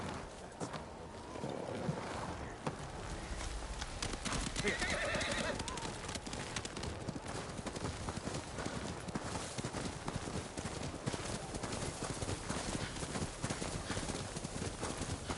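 Horse hooves trot steadily with a whinny early on, under a blustery wind-like ambience in the video game Ghost of Tsushima; faint voices come and go.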